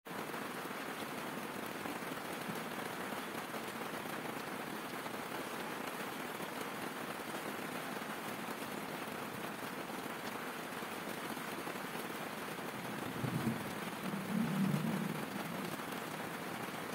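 Steady rain falls outdoors during a storm in the Philippines, a dense, even hiss of drops on surfaces throughout, with a brief low rumble near the end.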